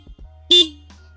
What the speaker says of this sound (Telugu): లౌడ్ హార్న్ ఇస్తున్నారు.